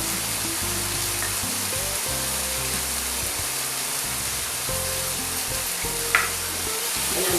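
Turmeric powder, garlic and mustard paste fry in a pan with a steady, close sizzle that fills the whole stretch, plus low stirring scrapes and a brief sharp clink near the end.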